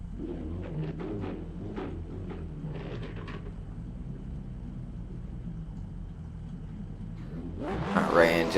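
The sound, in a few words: drift car engine revving, RX-7 replica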